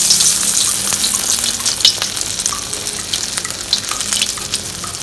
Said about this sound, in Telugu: నూనె కాగిందండి, వడలేద్దాం.